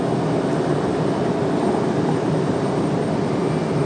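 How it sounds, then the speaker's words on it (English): Delta Connection CRJ regional jet run by Endeavor at Raleigh-Durham airport, a steady broad engine roar that holds loud and even for the whole stretch, with no voices over it. "We've got that Endeavor CRJ coming up, the Delta connection."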